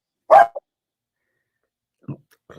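A dog gives a loud, close bark followed by a quick short yelp, then a pause before a few fainter noises near the end.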